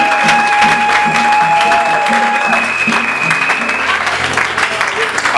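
A church congregation at a Sunday worship service applauds the Lord, steady loud clapping filling the room for several seconds, with a sustained organ or keyboard tone and a voice carrying over the top.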